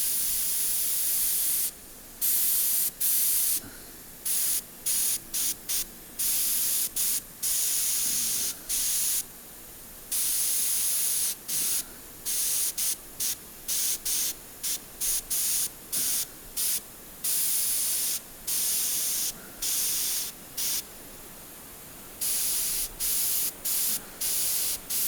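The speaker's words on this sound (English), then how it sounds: "so I've got the airbrush about" An airbrush sprays paint onto a carved totem pole in steady hissing bursts, switched on and off repeatedly in a close, loud rhythm with no talking.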